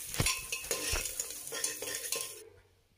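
Onion frying with turmeric powder in a pan: a utensil scrapes and stirs in quick strokes over a soft sizzle, close and clear, fading out toward the end.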